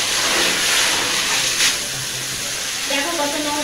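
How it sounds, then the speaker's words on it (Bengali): Dirty water pouring and splashing out while aquarium stones are washed, a steady hissing rush of running water throughout, fairly close and loud. "দেখো কত নোংরা জল বেরোচ্ছে।"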